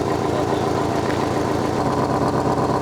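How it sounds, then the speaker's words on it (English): A Porsche 718 S engine in sport mode rumbles with a deep, throaty exhaust note, loud and close to the exhaust, holding steady throughout. "The engine sounds a lot more throaty, it sounds a lot more beefy"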